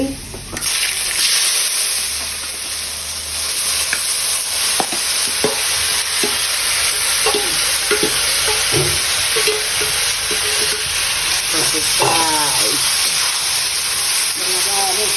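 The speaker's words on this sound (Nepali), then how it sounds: "यसमा हल्का बेसार राखेर म यो कटरलाई फ्राई गर्दैछु" Jackfruit frying in a pan with a little turmeric, a close hissing sizzle with stirring clinks and scrapes, while a voice talks over parts of it.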